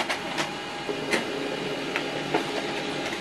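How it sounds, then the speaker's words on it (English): An HP LaserJet M28a laser printer runs a print job, giving a steady mechanical whir with faint repeated clicks and light ticks throughout, moderately close with no talking. "Right now this job is printing out."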